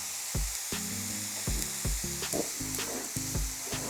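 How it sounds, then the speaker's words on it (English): Mushroom sauce bubbles and sizzles in a pan on high heat, a steady frying hiss broken by repeated soft clicks and pops as it reduces. "So check out the simmering sauce here. That's been cooking away."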